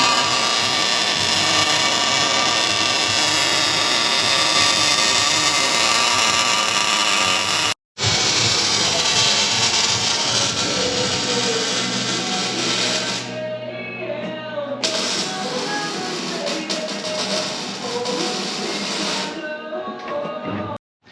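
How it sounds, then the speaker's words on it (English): Final welding on a roll cage for a Nissan B13 SE-R, heard as a loud, continuous buzzing hiss with a brief cut near eight seconds and a lower, wavering stretch later, close up with no talking. "Doing the final welding."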